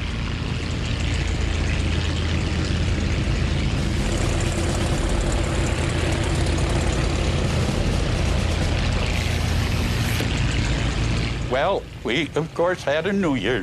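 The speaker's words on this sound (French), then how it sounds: "des P-47 Thunderbolt du 366e groupe de chasse s'apprêtent à décoller pour une mission d'appui aérien au-dessus des Ardennes" P-47 Thunderbolt fighters of the 366th Fighter Group idle before takeoff, their piston engines and propellers making a loud, continuous drone. A voice briefly rises over the noise near the end.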